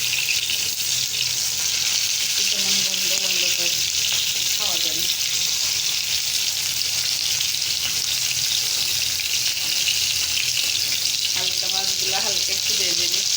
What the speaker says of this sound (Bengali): একটু ভেজে নিচ্ছি, টমেটোগুলো একটু ভেজে নেব।